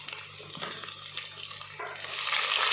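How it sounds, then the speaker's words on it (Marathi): Chopped onion and green chilli fry in hot oil with garlic for a Marathi masala khichdi, giving a steady close sizzle that grows louder and brighter toward the end. "कांदा आणि मिरची बरोबर अशी तळल्या जाते"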